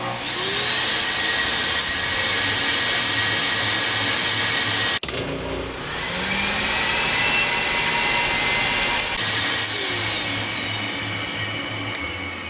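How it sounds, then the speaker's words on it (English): A Stanley 8-gallon, 6-horsepower-peak shop vac runs continuously on a 12-volt inverter with a loud, steady whining roar, dropping briefly near five seconds and then resuming at full strength. "here's a so-called 6 horsepower peak, 8-gallon Stanley vacuum cleaner, shop vac"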